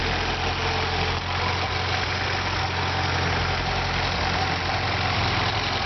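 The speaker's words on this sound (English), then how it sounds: "the car still idles quite nice. It's not lumpy." A Fiat 1800 engine fitted with 284 street cams idles steadily and smoothly, a close, even mid-low drone without lumpiness, running alone with no talking.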